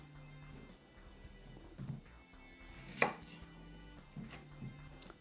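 A knife chops garden onions on a board for potato salad, making a few soft, spaced thuds with one sharper chop in the middle, close and quiet, with no talking.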